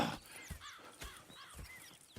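Horses in the video game Red Dead Redemption 2 give soft hoof clops and snorts at moderate distance, mixed into a busy outdoor game soundscape with faint chirps, with no talk.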